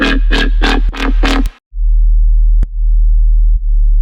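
A deep, clean sub-bass sine tone from the Serum 2 synth holds steady and loud, with a few short clicks and a brief synth stab at the start.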